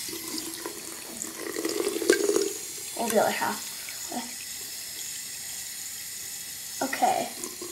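Tap water runs in short bursts into a container being half-filled for a vinegar-and-water solution to clean a gerbil cage, with someone talking between the splashes.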